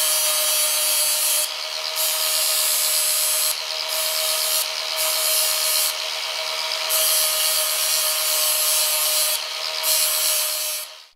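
A power grinder works the edges of flat crinoline hoop steel, making a loud, continuous abrasive whir with short bursts of harsher scraping as the metal is pressed against it.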